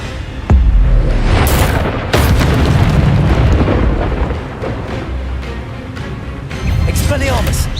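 Spells such as Expelliarmus burst out in Hogwarts Legacy combat, loud booming blasts and crackling impacts layered over ongoing battle noise, with a couple of sharp hits and a voice calling out among them.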